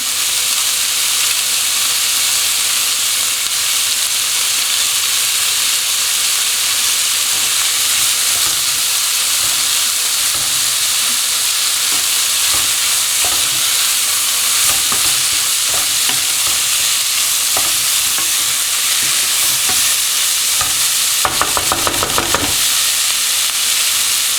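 Chopped cashew nut mixture fries with a steady, loud sizzle in a pan while a utensil stirs and scrapes through it, with a brief burst of sharper clatter near the end; no one speaks.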